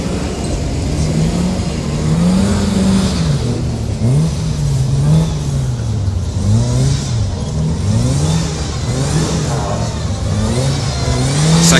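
A Volkswagen Polo rally car at a Bakewell club rally revs hard and loud, its engine note rising and falling in repeated swoops through gear changes as it drives past close by.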